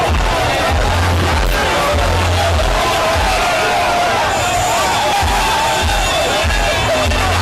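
A large crowd cheers and shouts along a city-centre street as an opposition party leader's motorcade drives through Fort Portal, a loud continuous roar of voices with whoops and rhythmic low thumps.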